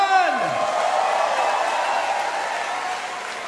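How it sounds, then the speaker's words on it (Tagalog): A crowd at a Philippine political party-list rally applauds in a broad steady roar of clapping, mixed with a falling electronic tone at the start and background voices. "Isang malakas na palakpak naman dyan!"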